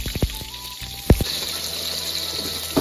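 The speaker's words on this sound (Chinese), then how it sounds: "把油锅烧热，我们放入食用油，倒入少量食盐，再把我们所腌制好的茄子" Salted eggplant hits hot cooking oil in a wok, giving a steady close sizzle broken by a few sharp pops and spatters.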